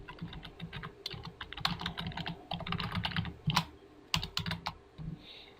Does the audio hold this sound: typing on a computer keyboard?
yes